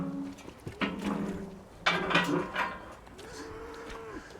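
Cattle in a farmyard give several loud moos, some long and drawn out, with a short gap between calls and faint clatter in the yard around them.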